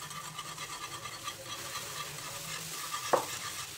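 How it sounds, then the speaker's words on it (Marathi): Rice flour being stirred into boiling water in a pot for Konkani rice strings: a quiet, steady scraping and stirring with a low bubbling hiss, plus one brief knock near the end, with no voices. "आता आपल्याला हे पीठ त्यामध्ये मिक्स करून घ्यायचे"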